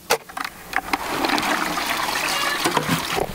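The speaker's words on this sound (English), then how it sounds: "So tomorrow morning, I'm gonna drain the water," Soaking water drains from a bucket of sunflower seeds in a steady, close trickling pour, starting with a few splashy drips before settling into a continuous flow.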